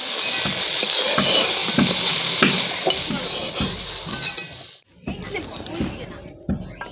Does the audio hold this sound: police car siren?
no